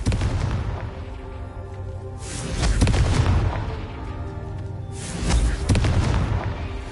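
Confringo fire spell explosions in the Hogwarts Legacy video game: two loud booming blasts a few seconds apart, each swelling and fading over a steady game background, with no talking.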